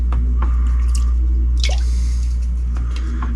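Leftover crabapple cider mash being rinsed out of a container, with wet squishing, sloshing and dripping over a loud steady low hum, a brief splashy burst near the middle.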